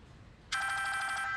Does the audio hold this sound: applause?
no